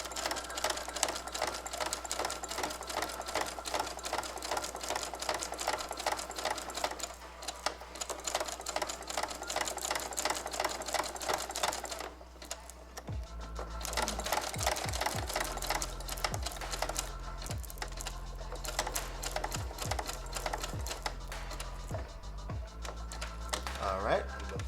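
A Brother SE625 embroidery machine stitching a patch, giving a steady, close mechanical whirr of rapid needle strokes that pauses briefly midway, then resumes with a lower running hum.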